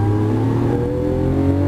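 A Lamborghini Aventador on a Las Vegas racing track accelerates hard, its engine a loud, steady, close roar with rising pitch and no voices.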